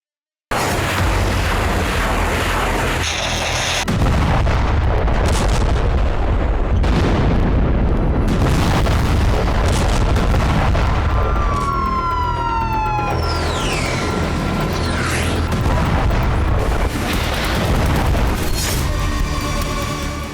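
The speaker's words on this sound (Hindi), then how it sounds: "लेकिन जब नसरल्लाह का फरमान जारी होगा तो हिजबुल्लाह लड़ाके इस तरह विध्वंसक हमले करते हैं।" War footage of destructive attacks with artillery fire and explosions, loud and continuous throughout, with booming blasts and rumble layered with wailing siren-like sweeps and whistling tones.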